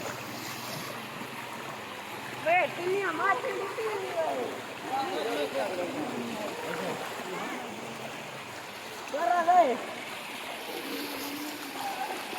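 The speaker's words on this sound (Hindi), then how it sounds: "हर जगह तो पानी ही पानी है।" Monsoon floodwater rushing across roads and bridges in Dera Ghazi Khan, a steady broad wash of flowing water with voices talking over it throughout.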